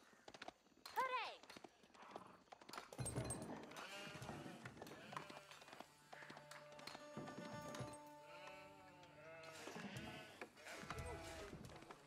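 Sheep bleating in the strategy game Age of Empires IV, several short quiet bleats scattered among game clatter and hoof-like clip-clops, with people talking over them.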